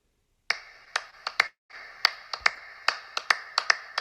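A therapy choir claps hands in a steady rhythm, crisp sharp claps repeating in a regular pattern after a brief pause, close and clear with no voices.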